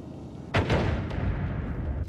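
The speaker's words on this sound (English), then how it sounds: "I think I'm gonna make a big explosion." A gunpowder store blows up in a video game, a single loud burst with a rumbling tail that dies away over the next second and a half, followed by a smaller pop.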